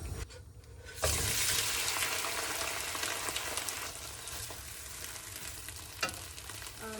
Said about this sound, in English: You see the oil starts to be really liquidy, and so now we can add in the shrimps.